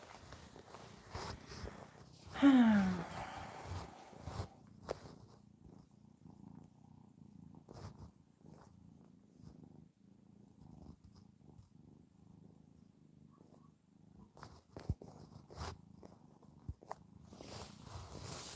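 A kitten purrs softly and continuously close by, with a few brief rustles and bumps.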